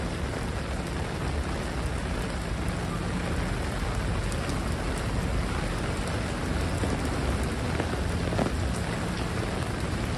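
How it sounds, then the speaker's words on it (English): Steady rain falling in New York City, a dense continuous hiss of drops on hard surfaces with no voices, even and moderately loud throughout. "Hopefully it stops raining tonight."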